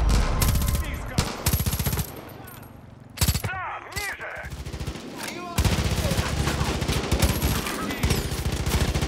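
Rapid automatic gunfire from a Far Cry 5 firefight, dense bursts of shots that stop briefly near the middle while scattered sounds continue, then resume loud and sustained, with a voice faintly under the shooting.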